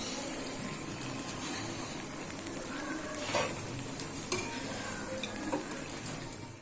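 Garam masala mixed with water is stirred into a sizzling pan, with a steady frying hiss, wet stirring swishes and a few clinks of the spoon against the pan, heard close up with no talking.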